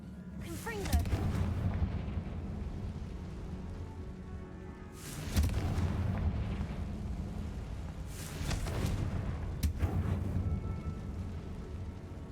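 Confringo fire spell blasts in the Hogwarts Legacy video game inside a tomb, three heavy booming explosions with rumbling tails over a low ambient drone, with a voice speaking at times.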